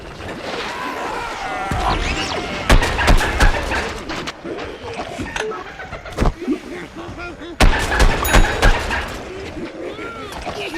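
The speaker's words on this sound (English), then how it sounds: "It'll stick to the world, it'll also stick to enemies before exploding." Explosions from a sticky explosive ball in the Plants vs Zombies Garden Warfare shooter game, heard as several sharp loud bangs among busy gunfire and game effects, with someone talking over the action.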